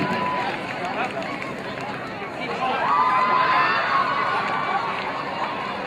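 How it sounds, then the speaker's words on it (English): A crowd at a high school football game, Westlake at St. Bonaventure, applauds for the St. Bonaventure dance team, a continuous broad wash of clapping and cheering that swells midway, with voices mixed in. "a nice round of applause for your St. Bonaventure dance team"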